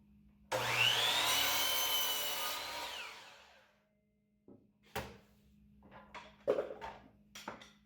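A power saw cuts through a wood board for a bike shed, a loud whining buzz lasting about three seconds that winds down, followed by scattered knocks and clunks of boards being handled.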